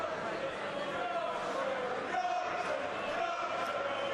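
Restless boxing crowd murmurs steadily through a glove change at a George Arias vs Hughie Fury bout, a dense, even arena hum at moderate level with no standout shouts.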